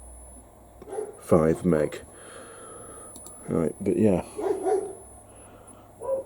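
Dogs bark a few times in the background of a workshop where a 1954 Cossor 938F television is being repaired, the short bursts rising over and between a man's speech.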